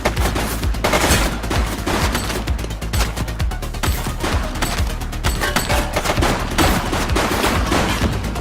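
Rapid gunfire from the police video game The Precinct crackles in dense, repeated bursts and volleys, loud and close, continuing throughout without pause.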